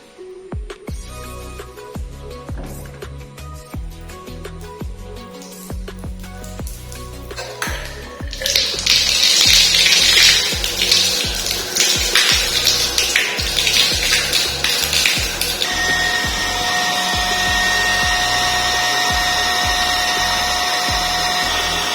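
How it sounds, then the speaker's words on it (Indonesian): An automatic electric water pump plugged into mains power, with the sink tap closed: quiet mechanical ticking at first, then a loud surge of rushing noise that settles into a steady, high motor whine, heard up close. "saatnya saya mau mencoba menghidupkan pompa air, otomatis pompa airnya"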